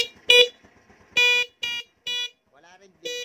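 A newly replaced horn on an older motorcycle honks in five short, bright bursts of uneven length, close and loud, with one fainter tone between them.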